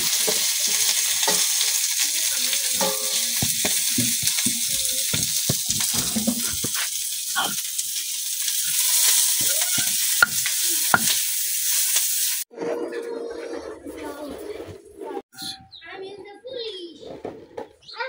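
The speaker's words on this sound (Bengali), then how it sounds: "এখন আমি সবকিছু খুব ভালোভাবে মিশাই লইতেছি।" Mashed shrimp bharta is stirred and mixed in a frying pan over a village kitchen fire, a constant close sizzle with scraping stirs, then a quieter stretch of scattered clinks and a voice talking nearby.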